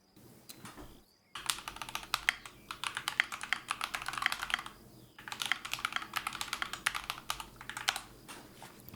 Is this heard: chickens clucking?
no